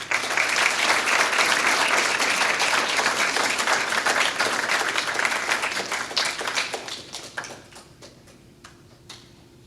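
A dense round of audience applause at a scout award ceremony, full and sustained at first, then thinning into scattered individual claps before fading out.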